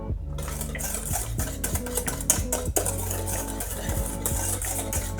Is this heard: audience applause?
no